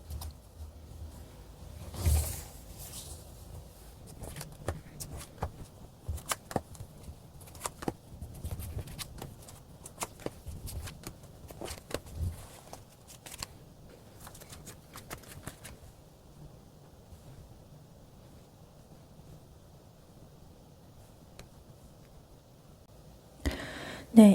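Tarot cards being shuffled and drawn, with a run of soft, quick riffling and slapping card sounds close to the microphone and occasional louder flicks, then near silence before a final brief handling noise.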